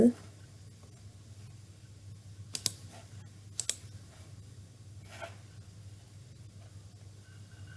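A computer mouse gives a few sharp, faint clicks, a quick pair, then another pair and a single click, over a quiet hiss in an otherwise still room.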